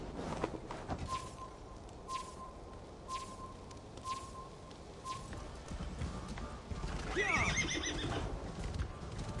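A horse whinnies near the end of a ride in the game Assassin's Creed Valhalla, over steady galloping hoofbeats and a repeating tonal signal, with faint background voices.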